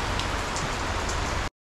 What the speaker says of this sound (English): Wait till it stops raining.